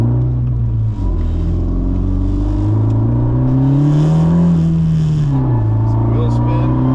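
A 10th-generation Honda Civic Si fitted with a PRL intercooler accelerates hard through the gears, its engine droning loud and close, climbing in pitch, then briefly dropping at a shift before climbing again.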